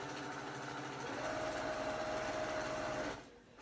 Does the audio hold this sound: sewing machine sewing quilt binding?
yes